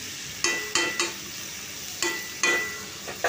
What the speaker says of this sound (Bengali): খুব ভালোভাবে আমি মশলাগুলোর সাথে ভালো করে মাংসটা মিশিয়ে নিচ্ছি।